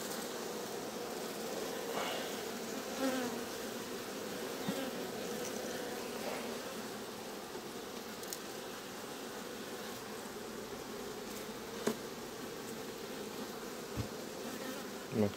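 Honey bees buzz around hives at an apiary in June, a steady low drone of many insects with occasional louder bees flying close past, no talk.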